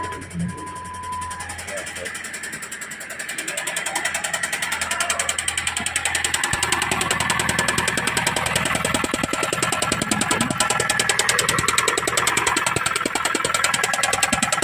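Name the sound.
Jeep Compass 2.4L engine running with noisy knocking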